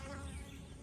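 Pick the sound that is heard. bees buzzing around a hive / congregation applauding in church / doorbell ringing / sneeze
bees buzzing around a hive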